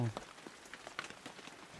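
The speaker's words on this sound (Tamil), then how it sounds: "மழை வேறு ரொம்ப பெய்யுது, கிளம்பலாம்டா" Rain falls steadily on surfaces outdoors, a dense pattering of drops with no voices over its short span.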